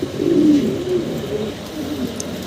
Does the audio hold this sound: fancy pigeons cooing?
yes